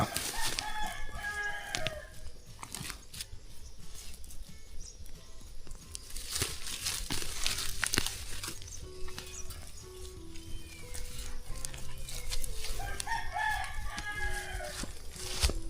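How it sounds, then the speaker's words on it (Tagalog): Birds at a fish pond make a busy, overlapping chorus of calls and clucking, some near and some farther off, with scattered footsteps or knocks beneath and no clear speech. "Grabe ingay sa fish pan mga birds"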